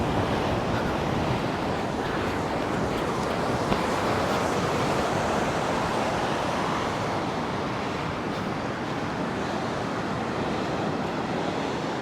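Sea surf near the Antarvedi lighthouse on an eroding shoreline, a steady broad roar of breaking waves mixed with gusty wind buffeting the microphone, loud and unbroken throughout.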